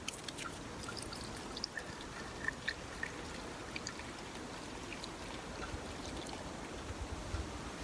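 Alcohol fuel is poured into a small camping alcohol stove, making a faint, continuous trickling stream with a few tiny drips and ticks over a low background hiss.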